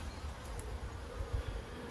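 Honeybees around an open top bar hive, a faint continuous buzz with low hum and a couple of brief closer passes, no speech.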